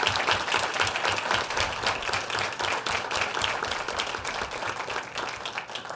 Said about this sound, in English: I want to ask the children to please stand so we can give you one round of applause.